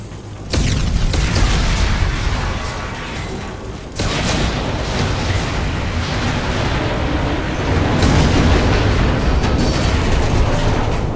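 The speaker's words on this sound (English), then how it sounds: "Firing concussive shot! Made contact neutralized one." Concussive shot blasts in the Mass Effect 2 video game hit as loud booming explosions, with sharp onsets near the start, at four seconds and around eight seconds, and rumbling debris and combat noise filling the gaps.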